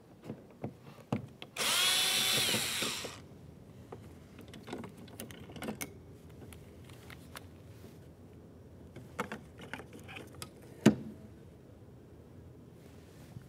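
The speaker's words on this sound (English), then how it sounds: "We'll use our T20 Torx bit for this." A power driver spins a T20 Torx bit into a small screw on a 2006-2012 Ford Fusion rear interior door, one steady whir of about a second and a half, followed by scattered faint clicks and handling noises.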